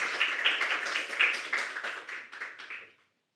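A small group gives a speaker a short burst of applause in a webinar setting, scattered claps that come through somewhat thin and distant before cutting off abruptly into silence.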